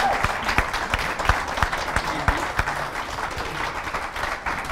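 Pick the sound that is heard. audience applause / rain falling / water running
audience applause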